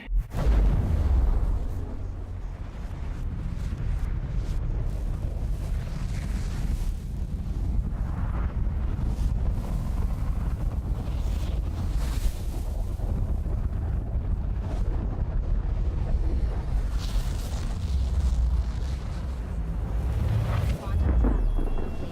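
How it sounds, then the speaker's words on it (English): Spaceship drive spooling up in the video game Star Citizen. A steady, heavy, low rumbling roar continues through the whole stretch, with a faint airy hiss above it and a few small fluctuations. "once again I'm spooling up my drive"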